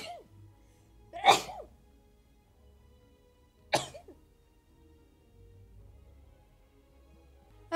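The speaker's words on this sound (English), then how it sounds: "gotta sneeze." Two sharp, close human sneezes burst out a couple of seconds apart, with near silence around them.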